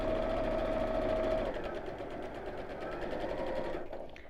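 A domestic sewing machine runs steadily while stitching fabric, a continuous fast whirring hum with a faint rhythmic needle chatter, close and alone, easing slightly in pitch partway through.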